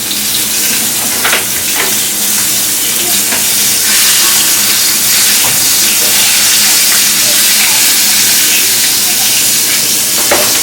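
Buttermilk-coated smothered chicken frying in a pan on the stove gives a steady, even sizzle with faint crackles and a few soft utensil clinks, with no talk.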